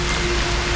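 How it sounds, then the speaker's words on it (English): Heavy rain pours steadily on a walk around Maidenhead during a thunderstorm, a dense, continuous hiss close by with no voices over it. "the rain is really coming down"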